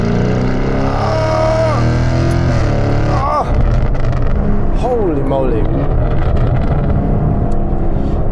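A Novitec-tuned Lamborghini Urus SE V8 SUV, held in third gear, revs hard with rising and falling engine pitch and a sharp shift or crackle midway, loud and close, with a voice exclaiming briefly over it.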